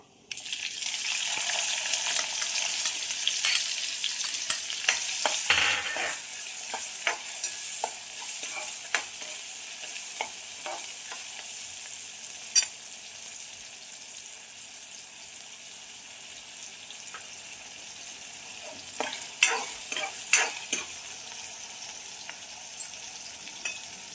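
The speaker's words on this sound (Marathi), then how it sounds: "आता तेल तापलेले त्यात जिरं टाकते आता मी कांदा टाकते आपला" Onion and cumin fry in hot oil, a continuous close sizzle with occasional stirring clicks and scrapes throughout.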